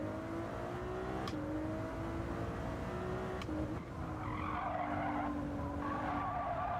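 A Ferrari on cold hard tyres in Gran Turismo 7 skids through corners with long sustained tyre squeals over a constant loud engine drone, the squeal pitch sliding as the car slips.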